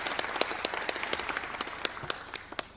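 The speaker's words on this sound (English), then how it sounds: "A round of applause for him." Sparse applause of separate sharp hand claps at an irregular pace, fairly distant and thin, like a small crowd clapping in a large room at an eLearning conference in Tanzania.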